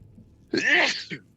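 A single sharp sneeze at a tabletop Dungeons & Dragons session, close and fairly loud, with a short softer breath trailing right after it.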